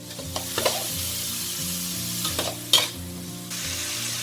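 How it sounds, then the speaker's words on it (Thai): Vegetables sizzle while being stir-fried in a pan, with a steady frying hiss and several sharp scrapes and clanks of a spatula against the metal, close by, with no voices. "เราต้องผัดผักของเรานะ"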